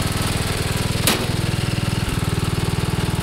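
A 15 horsepower overhead-valve riding mower engine with a 42 inch cut idles a little high. It gives a close, loud, steady chugging pulse with a brief hiccup in the rhythm.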